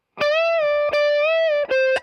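A distorted electric guitar sustains bent notes, with pitch easing slightly downward before the next picked note; three notes in close succession.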